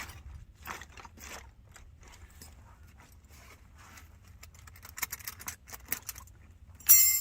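Wrenches rattle in a worn tool bag with a hole in it during a truck's rear end and brake check, giving intermittent metallic clinks and jangling bursts close by.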